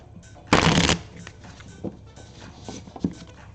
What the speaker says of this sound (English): Oh, that was a horrible shuffle.